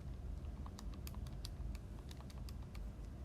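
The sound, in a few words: typing numbers on a calculator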